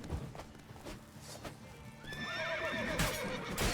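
A horse in The Witcher 3 game whinnies loudly with a wavering neigh after a run of clip-clop hoofbeats and scuffling, close and in the foreground.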